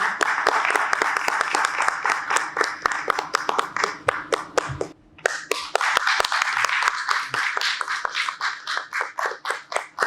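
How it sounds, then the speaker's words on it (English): A small audience at a corporate award felicitation claps in a lively, crisp burst, close and fairly loud, briefly dipping midway before picking up again, with individual claps thinning out toward the end. "A great round of applause, please."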